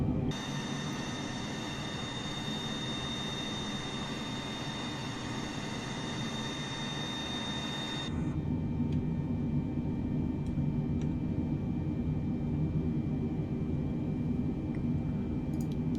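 A Boeing 747-8 in Microsoft Flight Simulator 2020 takes off in light wind. Its jet engines hold a steady, loud, close roar, and the tone shifts abruptly halfway through as the landing gear retracts.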